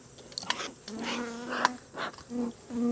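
Honey bees buzz around an open beehive as a small brood frame is lifted out. Short, close droning passes come and go in intermittent bursts, along with a few soft handling clicks.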